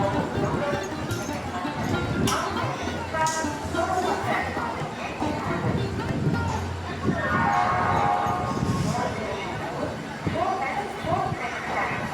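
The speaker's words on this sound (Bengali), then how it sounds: "এটা আরেকটা ট্রেন আসছে" A train pulls into a station with a continuous rumble and clatter of rolling wheels, mixed with crowd noise and nearby people talking over it.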